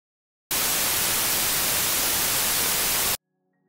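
Bright, harsh hiss of white noise switches on abruptly, holds steady and loud for a few seconds, then cuts off sharply.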